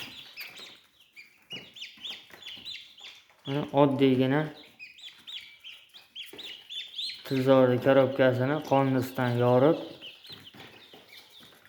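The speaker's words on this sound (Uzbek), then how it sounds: "Mana kurka jo'jalarimiz ham bor" Turkey chicks peeping in a small group, thin high chirps scattered throughout at close range, with someone speaking in two longer stretches over them.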